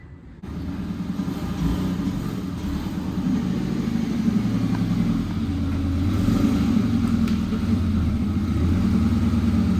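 A drift car engine with a severe exhaust leak where the headers mount to the block runs close by with a loud, rough low rumble and sputtering texture, steady and slowly building, with no voices.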